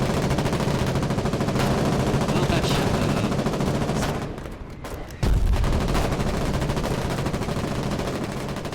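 Sustained automatic gunfire from the gunner seat of a half-track in the war game Foxhole, loud and continuous for about four seconds, a brief lull of quieter shots, then a heavy burst resuming and rattling on to the end.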